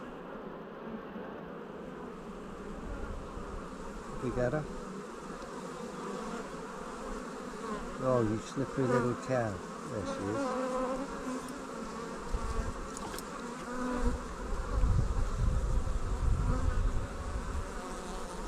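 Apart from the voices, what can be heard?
honey bees buzzing around an open hive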